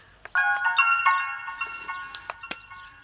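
A mobile phone ringtone plays a clear melodic tune for about three seconds, close and moderately loud, with a faint voice murmuring underneath.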